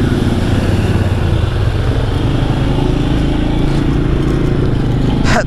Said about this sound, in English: That does sounds like a side-by-side.